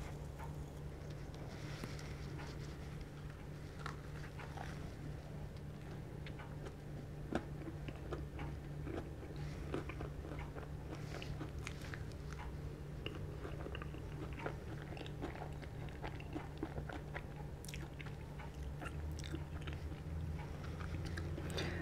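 Crunchy biting and chewing on a vanilla custard puff with a crisp top crust and creamy filling, with close, steady crackling mouth sounds throughout and no talking.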